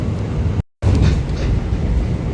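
Pangandaran panoramic class train rolls steadily along the track to Banjar station, a loud continuous rumble heard from inside the carriage, broken by a momentary gap.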